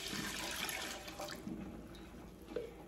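Chablis wine is poured into a large stock pot, giving a steady, continuous liquid splash that runs close and moderately loud for a few seconds.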